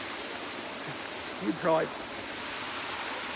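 Warm creek water at a hot spring flows with a steady broadband rush, close and constant throughout, with a voice briefly speaking over it midway.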